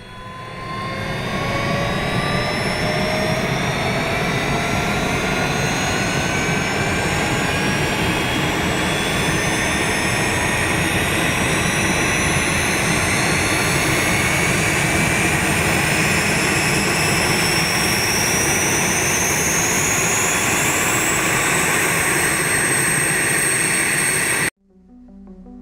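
Jumo 004 axial-flow turbojet of a WWII Messerschmitt Me-262 jet fighter, a loud, sustained roaring whine with rising and falling tones, steady throughout before cutting off abruptly near the end.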